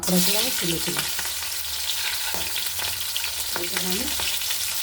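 Crabs coated in turmeric and salt fry in plenty of oil in a wok, making a loud continuous sizzle with spatula clinks and scrapes over the top.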